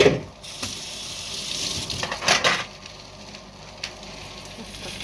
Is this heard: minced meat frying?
yes